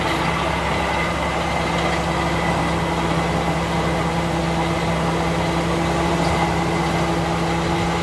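A 1976 AM General Jeep DJ-5D with an inline-6 engine idles steadily and smoothly, a close, constant mechanical drone with the faint tick of a fan running underneath.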